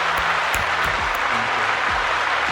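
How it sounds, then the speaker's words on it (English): A room full of people gives a round of applause, dense steady clapping filling the whole stretch at an even level. "Round of applause"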